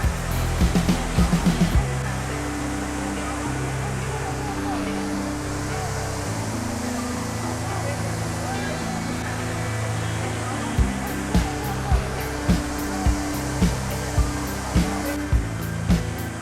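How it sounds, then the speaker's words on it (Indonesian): Takkapala waterfall, flanked by high cliffs, sends out a steady, dense rush of falling water with wind-blown spray, a continuous roaring wash broken by a few short knocks near the start and end. "sesekali percikan air terjun yang terbawa angin"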